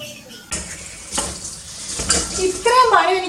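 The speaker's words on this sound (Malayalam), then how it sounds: "ചോറിന പപ്പടം കൊണ്ടെടുത്ത് പൊരിക്കട്ടെ." Papadum frying in hot oil in a pan, a crackling sizzle with scraping and clinking of utensils, rising louder toward the end.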